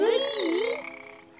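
A cartoon frog croaks in a single sustained, warbling call with a pitch that dips and rises, loud and close at first, then fading out.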